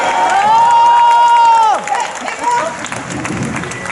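A long, loud sustained whoop or horn-like tone rings out over a crowd at a medieval-style knights versus barbarians tournament in Angers, then breaks off into scattered cheering and clapping.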